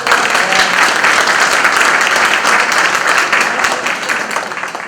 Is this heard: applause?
yes